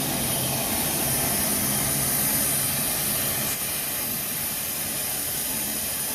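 A Bryan steam tractor engine runs at startup, building pressure toward 200 pounds, giving a loud continuous hiss and roar that holds steady throughout, with no talking.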